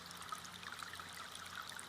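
Water flowing steadily into a sealed corridor, a faint continuous trickling and rushing with soft bubbling, quiet and unbroken throughout.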